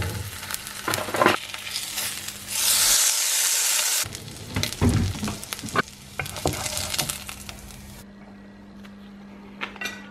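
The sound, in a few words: frying a slice of home cured pork belly bacon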